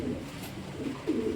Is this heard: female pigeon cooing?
yes